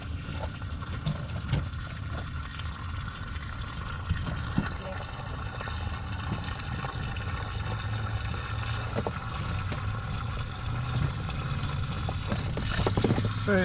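Water drains and splashes out of a flooded Chevrolet Silverado pickup truck, a steady trickling, gushing flow close by that grows slightly louder toward the end.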